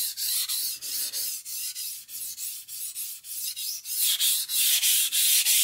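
A knife being sharpened along its bevel, with close, loud, rhythmic rasping strokes, each a short scrape in steady back-and-forth succession, alone with no talk.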